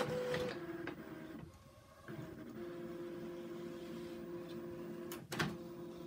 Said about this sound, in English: we're gonna go ahead and print the first nozzle check